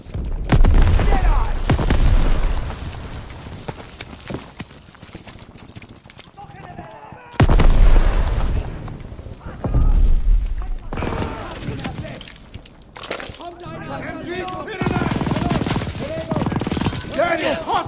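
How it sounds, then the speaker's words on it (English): Machine gun fire sweeps a beach in the Call of Duty WW2 video game: loud bursts of automatic gunfire and booming impacts come in waves, with shouted voices mixed among the battle noise. "MGs are still sweeping the beach!"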